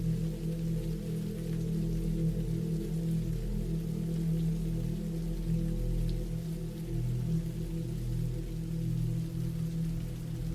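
Rain falling over a campsite in the woods, a constant, even hiss that holds steady throughout with no voices or other sounds.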